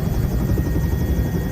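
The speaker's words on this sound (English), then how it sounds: "To the left, you see here another helicopter starting up." A helicopter spins up on the deck of a tanker ship in the Gulf of Mexico during a gale, its steady rotor and turbine drone loud, dense and continuous throughout, with no talking over it.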